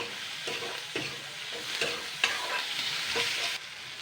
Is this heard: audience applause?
no